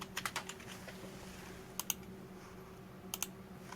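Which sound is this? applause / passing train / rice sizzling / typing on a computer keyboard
typing on a computer keyboard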